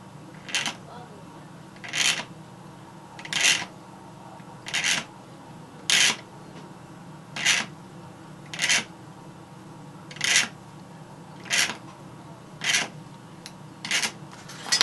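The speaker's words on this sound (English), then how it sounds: "use the back edge of the blade and start removing material" Rhythmic scraping strokes, about a dozen evenly spaced rasps of the back edge of a blade dragged across plastic while scratch building a model warehouse, close and fairly crisp over a quiet background.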